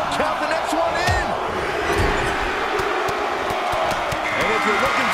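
A rowdy arena crowd in a wrestling video game, roaring steadily for a pin count after a head scissor takedown, with someone commentator talking over the continuous din.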